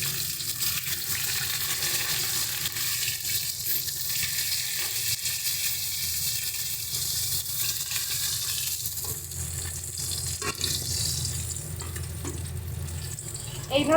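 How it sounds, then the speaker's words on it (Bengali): Pieces of katla fish fry in hot oil, giving a dense, steady sizzle and crackle that holds throughout, close and fairly loud, with faint movement toward the end. "এইভাবে আমরা বাকি মাছগুলোকেও ভেজে দিচ্ছি"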